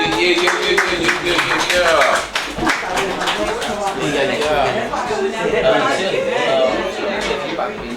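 A small live audience at a writing session claps in a loose, brief round, quick overlapping claps with some chatter and voices mixed in.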